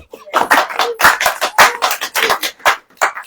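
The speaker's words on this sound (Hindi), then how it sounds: "ताली हो जाओ" A church congregation claps in a quick, dense burst of applause that carries on steadily for a few seconds.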